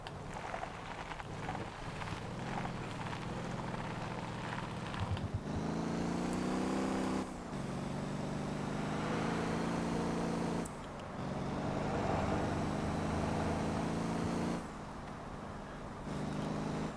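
A car is driven along a highway during a taxi run in the Motor Town driving game, its engine droning steadily with rising and falling gear tones and brief drops between shifts, no talk over it.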